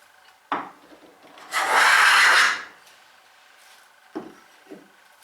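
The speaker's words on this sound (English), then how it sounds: "it's taking a shaving for the full length of that wood, just a thin amount, and gradually getting rid of all that roughness" A hand plane takes one long, thin shaving along the full length of a wooden box piece, a loud sustained rasping swish lasting about a second, with a couple of faint knocks from the tool before and after.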